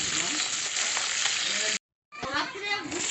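Hilsa fish sizzling loudly in hot oil as the pieces are lifted out, with a steady crackling fry that cuts out briefly and then resumes with spattering bubbles.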